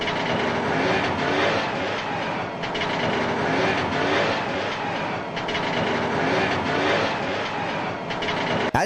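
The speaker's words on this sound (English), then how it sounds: "As you can see and hear, the Trabant was and still is a fast, agile and good-sounding car." A Trabant car runs with a steady, loud, dense engine rumble and road roar throughout, with no pauses and no voices.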